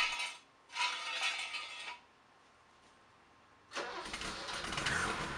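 A BMW E28 M535i starting up after sitting, with an exhaust leak in the muffler, heard close: two bursts of cranking and engine noise, a quiet gap, then the engine running steadily and loud.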